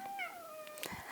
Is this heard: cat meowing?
yes